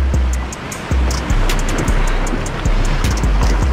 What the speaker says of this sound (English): Waves are huge.